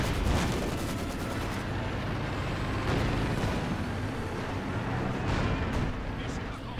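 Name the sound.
artillery barrage in the Company of Heroes 2 video game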